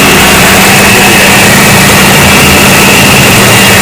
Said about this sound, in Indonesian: suara kasar saat AC on itu mungkin ya ngorok ya, kondensornya atau kompresornya